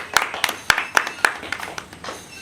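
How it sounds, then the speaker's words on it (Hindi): People clap their hands at a wedding in a rhythmic run of about five sharp claps, then softer scattered claps trailing off, fairly close. "ताली मारो।"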